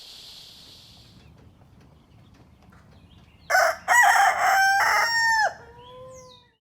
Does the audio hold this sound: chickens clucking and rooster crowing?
yes